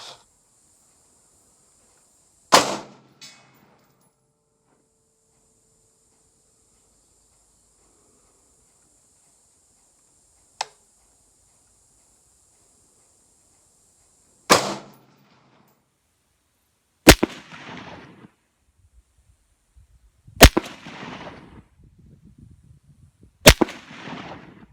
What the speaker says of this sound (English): first 5 rounds are going to be the Black Hills factory new 223 77 grain hollow point